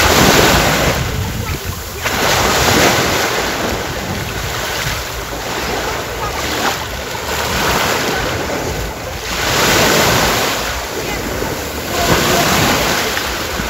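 Surf washes steadily onto a mostly sandy beach at Kemer, with small pebbles in places. The waves break and rush in repeated surges, loud and close, with wind buffeting the microphone throughout.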